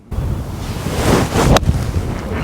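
Strong wind gusts across an open golf course at Appleby, a loud, close roar buffeting the microphone that swells and dips over a few seconds.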